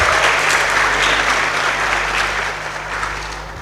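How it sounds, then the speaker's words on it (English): Audience applause fills a conference hall at KCD Mumbai, steady dense clapping that slowly fades over a few seconds. "A big round of applause for everyone who is here."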